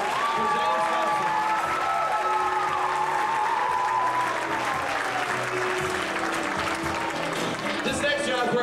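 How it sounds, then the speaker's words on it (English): A university jamboree audience applauds and cheers, steady dense clapping mixed with whoops and shouting voices, while strong tonal voice lines rise above the crowd noise throughout. "Give a big warm round of applause for James Thompson."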